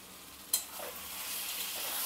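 Vam fish masala bhaji stirred in a pan after simmering under a lid: one sharp scrape of the spoon, then a steady soft sizzle, close and fairly quiet.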